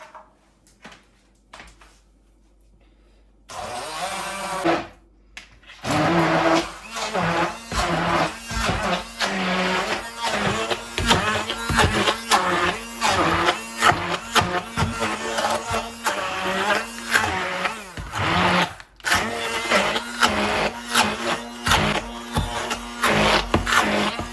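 A kitchen blender or food processor churns liver pâté with carrots, starting after a few quiet seconds and then running loud with rhythmic chopping pulses and brief pauses.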